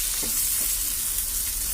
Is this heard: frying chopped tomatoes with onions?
yes